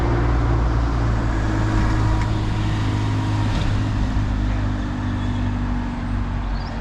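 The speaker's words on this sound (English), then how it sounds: "There's another 216 that's just pulled into, oh, going into Staines Bus Station now." An Enviro 200 single-deck bus on route 216 pulls into Staines Bus Station. It gives a steady, close, low diesel rumble that stays fairly even throughout, with some faint traffic noise behind it.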